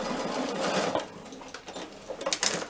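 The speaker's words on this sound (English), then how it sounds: "Sew to the end and then back tack again" A sewing machine stitches a small batik wallet in quick whirring runs, pausing briefly and restarting as it sews to the end and back-tacks.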